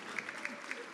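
Audience clapping during guest introductions at a grantee showcase, a short burst of scattered applause with a few sharper claps rising out of it.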